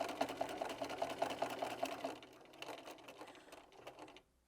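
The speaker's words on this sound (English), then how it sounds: "I'm going to go in and I'm going to reverse, and then I'm going to sew to the bottom" Sewing machine stitching a seam on a fabric Christmas table decoration, a fast steady run of needle strokes that stops and continues more quietly for a reverse stitch, close and alone.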